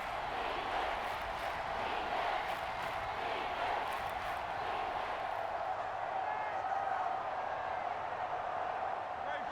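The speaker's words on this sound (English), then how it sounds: "Crowd on their feet." Stadium crowd noise in the Madden 24 football game before a third down, a steady loud roar under commentary that thins out toward the end.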